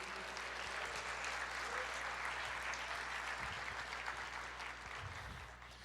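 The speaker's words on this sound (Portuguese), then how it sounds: "Você pode aplaudir o Senhor" A church congregation applauds in sustained, fairly distant clapping that fills the whole stretch, slowly tapering near the end, with no speech over it.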